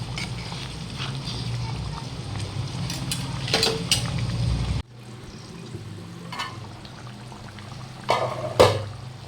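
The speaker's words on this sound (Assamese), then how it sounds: "উতলিবলৈ ধৰিছে" Chicken curry cooked with Nara Singha leaves simmers in a pot on low heat, a steady soft bubbling with occasional louder stirring or pouring noises near the end.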